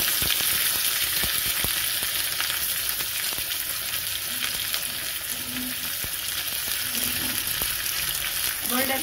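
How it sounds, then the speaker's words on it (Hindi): Onions fry and brown in a pan for a vegetable curry, giving a loud, steady sizzle throughout with occasional stirring scrapes. "प्याज को ब्राउन करना है"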